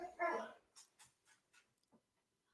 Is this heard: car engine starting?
no